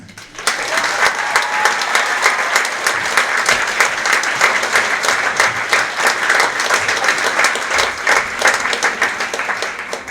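A theatre audience applauds to welcome Tom Chambers onto the stage: loud, dense, sustained clapping from many hands that starts suddenly and holds steady for about ten seconds.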